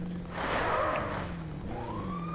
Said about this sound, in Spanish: Prende la sirena. Sí, prende la sirena.